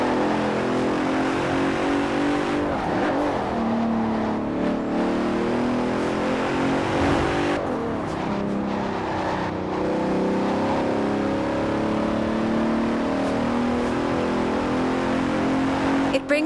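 Engine of a 2017 Bentley Continental Supersport, an all-wheel-drive car in Forza Horizon 4, revving and pulling hard throughout, a loud, steady roar with shifts in pitch and a brief tire squeal.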